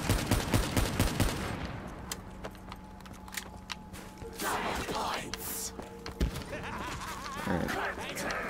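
Rapid automatic gunfire in a Call of Duty Black Ops 3 zombies match rattles loudly at first, then thins into scattered shots and thuds while a player talks over it.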